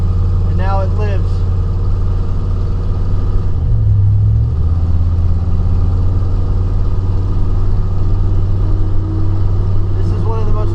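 A 1972 Chevy C10 pickup with a 454 big block V8 and Holley Terminator X Max fuel injection runs with a loud, close, steady low rumble, a brief rise in revs partway through, and voices talking over it.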